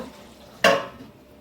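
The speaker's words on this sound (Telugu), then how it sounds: "ఇదైతే చికెను కూర వండుతున్నాను" A metal spoon strikes a cooking pot once while chicken curry cooks in a home kitchen. The clank is sharp and ringing, fades quickly, and sits over faint background noise.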